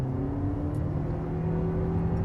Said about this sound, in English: the engine isn't that loud. You definitely hear it